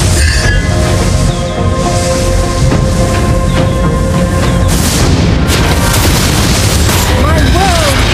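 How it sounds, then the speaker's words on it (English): A loud, dense game-battle mix from Mobile Legends where a turret is destroyed, with booming blasts and layered effects running continuously throughout, as voice-like announcer tones mix into the crowded soundscape. "Our turret has been destroyed."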